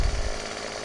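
A chainsaw cuts wood in the farming video game Farming Simulator 17, with a steady buzzing engine whine and a brief low rumble at the start, then a sustained, moderately loud drone.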